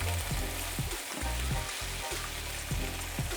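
Thin pork slices fry with mirin for Japanese ginger pork shogayaki, four at a time in a pan. A steady, close sizzle runs throughout, with soft stirring clicks.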